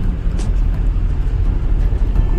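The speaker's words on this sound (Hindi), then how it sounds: "एक गाड़ी चल पड़ी है डेस्टिनेशन की ओर" A car pulling away on the road to Pahalgam, its broad low road and engine rumble steady from inside the cabin throughout, with no one speaking.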